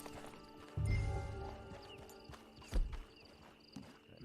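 A horse's hooves clip-clop at a walk in Red Dead Redemption 2, a steady muffled stepping rhythm with a heavier thud partway through and a faint whinny-like tone over in-game ambience.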